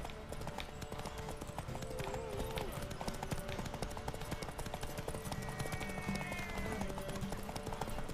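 Horse hooves clip-clop at a steady gallop rhythm in The Witcher 3, the mount running on continuously under game music and ambient sound, with a brief whinny audible.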